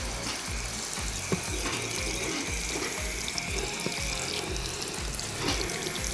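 Water poured from a tap or container to moisten a worm bedding mix for a nightcrawler bin, a steady splashing trickle with faint scattered rustles, heard alone without talk.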